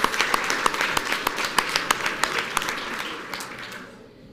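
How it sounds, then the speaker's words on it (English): A school audience claps for a Battle of the Books team, a dense patter of hands with sharp individual claps standing out, steady for a few seconds before fading at the end. "Let's give the purple polka dotted peacock some big applause."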